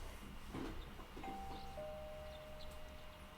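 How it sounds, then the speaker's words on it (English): A faint two-tone electronic chime, a video game doorbell ding-dong from Persona 4 Golden, sounds once against a low background hum, with the tones lingering briefly. "You hear the doorbell ringing."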